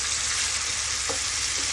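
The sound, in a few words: pork frying in a pan as soy sauce is added for sitaw adobo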